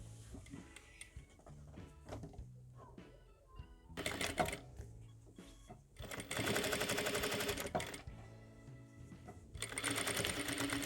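A sewing machine stitches the body of a plush bunny toy, a sleepy soft bunny, running in bursts of rapid mechanical whirring with short pauses and quieter handling sounds between runs.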